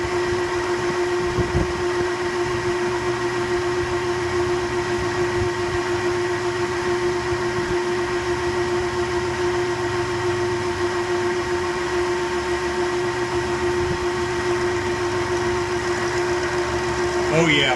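CNC cutting machine running a 1/2 inch carbide bit, a steady continuous mechanical whine with a sustained tonal hum and constant drone throughout, a short knock early on.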